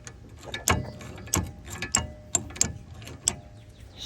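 A ratchet snugging the brake caliper bolts on the rear brakes of a 2018 Honda Clarity, sounding as quick bursts of close metallic clicking with short pauses between strokes.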